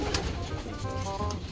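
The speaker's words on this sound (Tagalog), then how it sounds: "So, naistorbo yung mga ibon natin." Racing pigeons, disturbed while being caught and basketed at night for training, give soft, low cooing calls close by, steady and unhurried.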